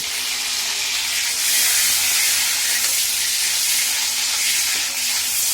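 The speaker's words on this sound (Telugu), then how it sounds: "మనం తెచ్చిన పచ్చిమిరపకాయలనే ఇక నూనెలో వేస్తున్నా" Green chillies sizzle loudly in hot oil in a home kitchen, for a masala curry, a dense steady hiss that swells slightly partway through and holds without any voices.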